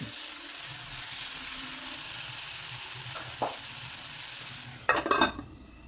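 Raw banana and chana dal thoran cooking in a pan, a continuous low sizzle broken by a couple of scraping stirs and a louder clatter of the spoon near the end; no speech.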